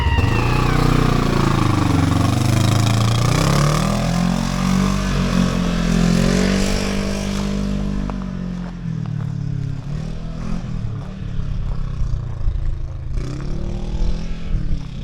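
Loud Polaris RZR KRX 1000 UTV engine with an aftermarket trail muffler revving and rumbling up close, its pitch rising and falling, then settling into a lower, uneven idle with a throaty exhaust note.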